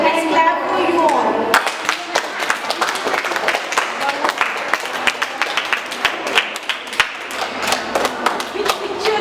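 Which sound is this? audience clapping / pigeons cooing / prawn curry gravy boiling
audience clapping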